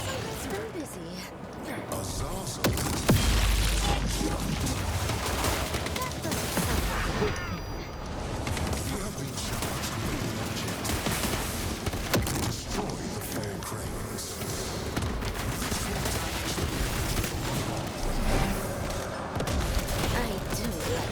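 Continuous dense gunfire and booms from a favourite weapon in the game Painkiller on PS5, loud and sustained throughout, with someone talking over it much of the time.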